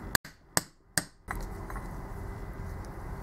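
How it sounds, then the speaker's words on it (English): Three sharp, close metallic taps in quick succession from a hammer striking a socket to knock the bushing out of a Bosch 110 series starter motor, followed by steady low background noise. "Place it down where the bushing is and give it a few taps with the hammer."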